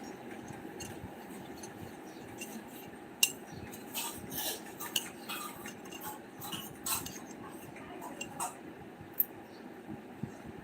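A spoon clinks against a plate or bowl while someone eats shev, giving scattered light metallic ticks over a steady background hum. Close and irregular, with no talk.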